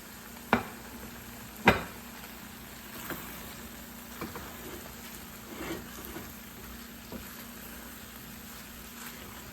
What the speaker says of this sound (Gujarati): બધું આપણે બરાબર મિક્સ કરી લઈશું મંચુરિયન સાથે.